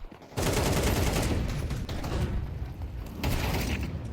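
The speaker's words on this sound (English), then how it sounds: "they've got the 2 rifles here, including that AWP of Cassin" Rifle gunfire crackles in a Counter-Strike esports match, a dense loud burst of shots and clatter running almost continuously, with a second surge near the end.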